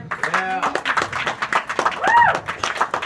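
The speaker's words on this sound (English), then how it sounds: "Keep your applause going for Preston" Comedy club crowd clapping and cheering for Jackass star Preston Lacy, dense close applause with whoops, a whistle and voices mixed in throughout.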